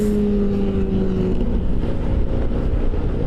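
A four-cylinder motorcycle with an aftermarket exhaust rumbles loudly and steadily at close range, its deep engine note holding throughout with no speech over it.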